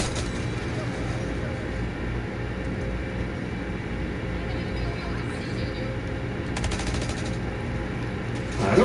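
Gunfire in Call of Duty Black Ops 6, a continuous rattle of automatic fire over game background noise, fairly distant and steady, with a louder bout near the end.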